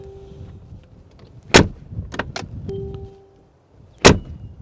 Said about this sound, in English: One of the coolest things about the G-Wagen is the legendary sound of the door open and close.